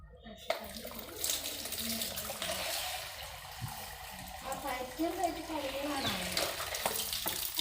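Water poured over a pet chicken during a bath, splashing and trickling steadily close by while people talk.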